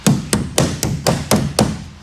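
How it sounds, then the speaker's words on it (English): A claw hammer works metal tabs loose during an electric ATV assembly, producing seven sharp metallic knocks at a steady, even rhythm, close and fairly loud. "Take your claw hammer, get it underneath the tab, get a little fold up like that."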